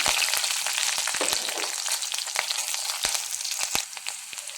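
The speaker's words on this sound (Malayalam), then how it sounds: "അതിലേക്ക് ഇനി ഒരു പച്ചമുളക് അരിഞ്ഞത് ഇട്ട് കൊടുക്കാം. ഇതൊന്ന് ഇളക്കി കൊടുക്കാം." Chopped garlic and green chili fry in hot oil in a pan, a steady hissing sizzle close by, punctuated by a handful of sharp taps as a spoon stirs and knocks the pan.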